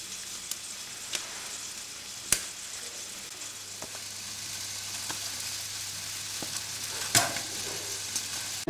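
Merguez sausages sizzle and spit on a grill, a steady bright crackle running throughout with occasional sharper pops, close and fairly loud, with no voices.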